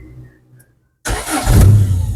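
A 1990 Honda Grand Civic engine cranks and catches after a quiet pause, then settles into a loud, steady idle close by with no throttle applied.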